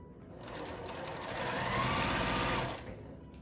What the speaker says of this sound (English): I am going to also be sewing my leaders and enders project